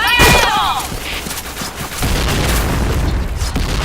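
Grenade blast and gunfire in the Point Blank shooter on the Downtown map, a loud boom with dense rapid gunshot bursts that run on throughout, close and harsh.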